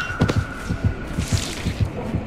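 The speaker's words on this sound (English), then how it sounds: "Oh, the heartbeat, the heartbeat" A killer's terror radius heartbeat in Dead by Daylight pulses as low, doubled thumps in a steady rhythm, about two beats per second, with a faint hum underneath.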